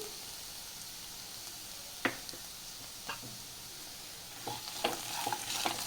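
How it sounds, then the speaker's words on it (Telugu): Jaggery fries and melts in a pan for bottle gourd payasam, giving a soft, steady sizzle with a few sharp clicks and scrapes of stirring that grow busier toward the end. "ఇది కరిగిపోయేంత వరకు వేయించేసుకోవాలండి"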